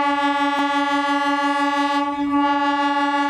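The 16780 Tirupati Express sounds a long, loud, steady horn blast as it departs Mambazhapattu station, held nearly the whole time with a brief clank early on.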